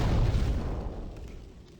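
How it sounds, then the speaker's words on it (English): A deep, rumbling explosion from the Demon's Souls video game booms out at the start, then a broad roar slowly decays over the remaining two seconds with no voices present. "Now we just wait for the explosion"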